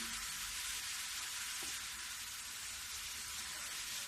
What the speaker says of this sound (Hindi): देखो, मैं गाजर डाल दी हूँ। अब इसको धीमी गैस पर थोड़ी देर में भूनूंगी।